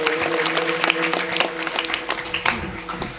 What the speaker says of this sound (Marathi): दादांसाठी एकदा जोरदार टाळ्या वाजवा.